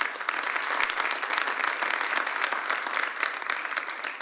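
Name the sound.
congregation applause in church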